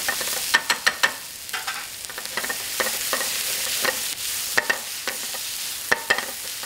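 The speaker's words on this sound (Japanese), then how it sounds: "はい、よく炒めてください。" Ingredients for Ghanaian jollof rice stir-fried in a pan: a steady, soft sizzle with quick scraping clicks of a utensil, bunched in bursts, close up and with no talk.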